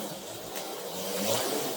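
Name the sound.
HO slot car running on track, stock tire noise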